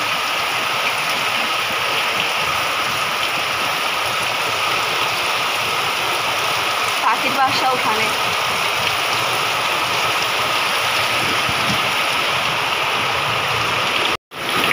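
Rain pours outside in a steady, even hiss of drops striking surfaces, with a brief spoken remark partway through and a short dropout near the end.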